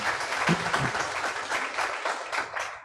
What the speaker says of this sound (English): We have Sister Tripti, a big round of applause for her.